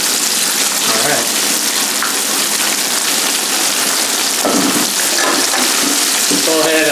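Pieces of striped bass sizzle in hot oil in a pan while being cooked for a curry, giving a steady, loud crackling hiss throughout with a few brief pops and faint background voices.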